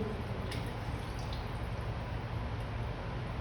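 Glaze drips off a pottery piece as it is slowly rolled, a faint, soft wet trickle with occasional tiny splats, close and quiet with no talk.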